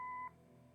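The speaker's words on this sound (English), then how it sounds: "Leave a message after the beep." A short electronic answering machine beep sounds once in the video game Kathy Rain, then cuts off into a quiet low hum.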